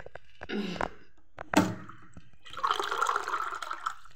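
Cold water poured into a vessel of warm water, heard in short splashing bursts followed by a longer steady pouring rush, close and moderately loud, with no talk.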